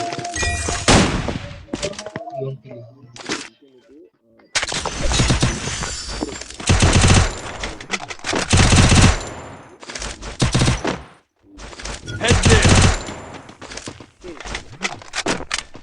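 Loud bursts of rapid automatic gunfire from a game, repeated in long volleys with brief pauses, and a person talking between the shots.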